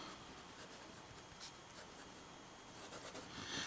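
A Waterman JIF fountain pen with a fine nib moves across paper, making a faint continuous scratchy rustle with slight stroke-by-stroke swells.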